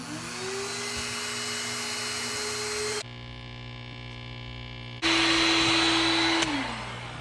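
A powder coating fluid bed runs with a steady, close blower hum and airy hiss that cuts out midway, leaving a low drone, then comes back louder before easing off near the end.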